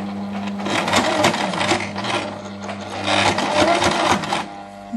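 A sewing machine stitches fabric while sewing a detachable Peter Pan collar, a steady close whirring rattle that runs continuously and slows slightly near a corner.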